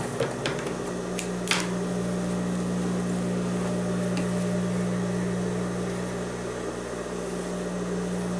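A sewing machine stitches a trouser pocket, a steady mechanical motor hum running close and unbroken, with a few sharp clicks near the start.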